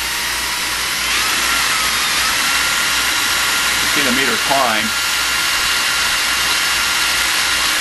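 A power drill runs wide open at high speed, driving a small electricity generator, whirring steadily with a constant motor hum throughout while someone speaks briefly over it.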